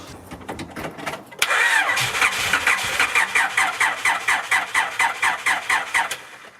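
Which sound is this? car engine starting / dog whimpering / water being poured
car engine starting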